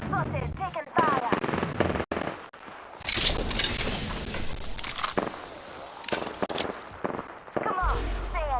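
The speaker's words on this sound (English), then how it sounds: "Taking fire." Rapid automatic gunfire and sharp shots erupt in the battle royale shooter Apex Legends, loud and close, in bursts broken by brief pauses and mixed with in-game voices.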